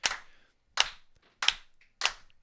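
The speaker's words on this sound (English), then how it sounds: "when a guest comes in, we actually always slow clap" Four slow, deliberate hand claps in a broadcast studio welcoming a guest, evenly spaced about two-thirds of a second apart, crisp and close with silence between them.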